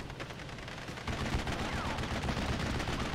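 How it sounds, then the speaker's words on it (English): Heavy .50 cal machine gun fire from a Stuart tank in Steel Division: Normandy 44, a dense, loud burst of rapid shots that swells and continues unbroken amid battlefield noise. "Nice kill there for the Stuart Remy, the 3-star on that 50 cal."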